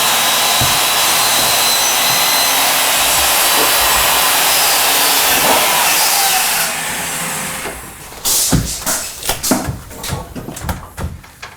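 A power tool cuts a notch out of a wooden framing beam for a pocket door header, a loud steady whine running for about seven seconds before stopping, followed by scattered knocks and handling sounds.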